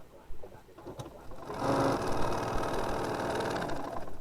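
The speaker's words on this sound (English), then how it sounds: "I'm ready to sew." Sewing machine stitching a small quilt block, starting after a brief pause and then running steadily in a fast, even mechanical whir, close and moderately quiet with no talk.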